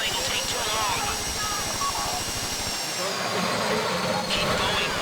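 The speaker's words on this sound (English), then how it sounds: "go in your bag, get out the drill. Don't go too quick, or it's gonna overheat." A safe-cracking drill in GTA V Online's Fleeca Job heist whines and hisses continuously at a high pitch, with a dense grinding layer underneath and speech over it.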